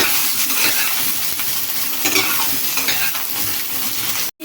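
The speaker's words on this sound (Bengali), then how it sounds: "ফুলকপিগুলো এবার ভাজতে হবে।" Cauliflower florets frying in hot oil for a vegetarian cauliflower-potato curry give a steady, close sizzle with light stirring scrapes throughout, cutting off abruptly just before the end.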